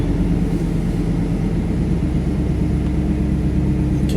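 A GMC Jimmy's engine runs at a fast idle, a loud, steady low rumble with a constant throbbing pulse, heard close up from inside and without talk.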